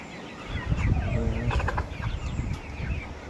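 Tiger breed chickens on a farm cluck and mutter in a steady, close chorus, with brief rustling and wing flaps among the birds and no talking.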